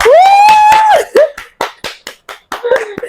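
Hands clap in a quick burst of sharp strikes at an interview event introducing a fashion entrepreneur in Nigeria, mixed with a sustained voice at the start and followed by scattered separate claps.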